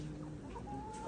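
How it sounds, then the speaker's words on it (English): Chickens clucking softly in a backyard coop at feeding time, a few short calls close by over steady low background noise. "to feed the chickens"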